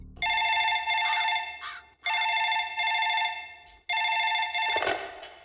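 A telephone rings in three bursts of a bright electronic trilling bell, each about two seconds long with short gaps, clear and close with no talk over it.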